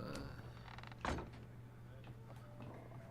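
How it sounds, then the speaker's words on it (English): A door closes in the Avowed video game, giving one short, solid knock-like thud midway over a low steady hum and faint ambient murmur. "just close that door back up"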